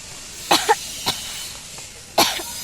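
A person coughs from cigarette smoke in three sharp, close bursts, two quick hacks early, another shortly after, then a final louder cough, with quiet pauses between.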